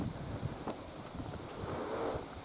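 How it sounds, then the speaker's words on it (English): Wind blowing through woodland above a steep drop in a forest, a continuous low rushing buffet on the microphone with faint rustling of leaves and brief knocks. "Comes the wind."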